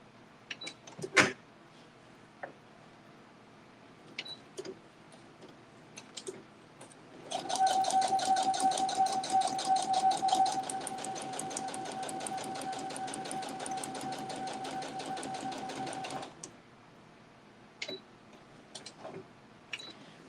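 A sewing machine stitching a quilt line runs steadily for about nine seconds with a fast, even mechanical whir, framed by quiet handling clicks and taps before and after.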